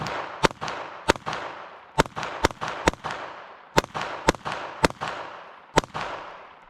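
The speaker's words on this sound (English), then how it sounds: "Let's fire off a few more at these, see if we can't get them to blow up a little bit more." .22 Long Rifle self-defense rounds fired at cantaloupes outdoors: about a dozen sharp, loud cracks in irregular bursts, each followed by a short fading echo, with no talking.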